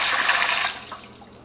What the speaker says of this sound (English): Now you want to add water per your canner's instructions.